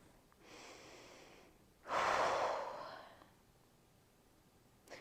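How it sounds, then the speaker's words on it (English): Heavy breathing close to the microphone during a stretching and mobility routine: a softer exhale, then a loud, rushing breath lasting over a second that fades out, with a faint click at the end. "Sorry if I've been breathing very heavily into the mic."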